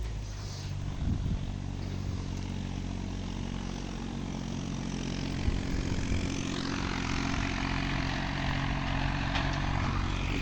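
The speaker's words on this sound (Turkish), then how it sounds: "Traktör tozu dumana katıp gidiyor." A tractor drives past along a dusty dirt road, its engine a steady low droning hum with layered harmonics that holds at a fairly constant level throughout.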